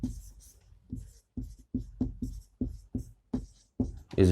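Letters written by hand during a physics lesson on resistors make short, close strokes in a quick, uneven rhythm, each a brief scrape or tap separated by pauses, with no talking.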